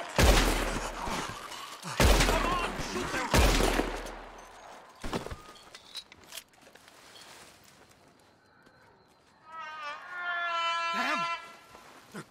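Loud, booming gunshots from a Red Dead Redemption 2 shootout at hanging ropes land in a quick series of heavy blasts, then fade to sparse distant shots and echoing ambience, with a brief whistling or ringing tone near the end.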